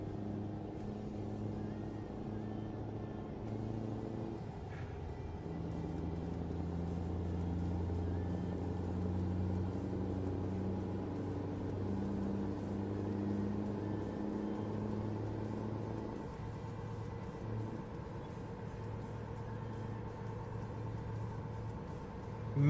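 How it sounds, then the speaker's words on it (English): A truck engine in American Truck Simulator drones steadily at low pitch from inside the cab, a constant rumbling hum that shifts gear-like in tone a few times over the stretch. "the engine's kind of loud"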